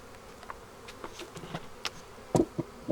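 Honeybees buzzing around a hive during a Georgia nectar flow, a faint scattered drone with brief louder passes of single bees close by, no talking.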